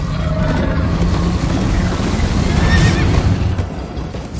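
A horse in the Minecraft: Story Mode video game whinnies loudly over steady galloping hoofbeats, with a dense, continuous game soundscape and no talking.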